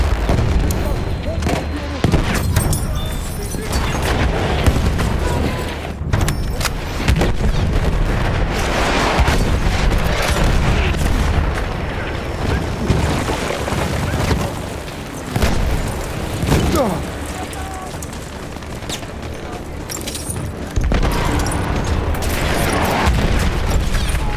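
Bomb explosions in Battlefield 1 on the Gallipoli Cape Helles map, with dense booms and rumbling blasts mixed with gunfire and a continuous loud battle din, and voices talking now and then.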